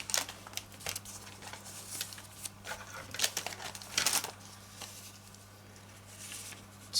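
Sellotape being cut or torn from a roll during mixed media art journal work: a few soft crinkling, snipping bursts with faint patter over a steady low hum, close and quiet, no talk.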